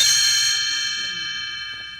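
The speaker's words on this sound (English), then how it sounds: "it is time to turn the page when Tinker Bell rings her little bells like this." A cluster of small bells rings out in a bright, shimmering tone, loud at first and slowly fading over two seconds, with a faint voice underneath.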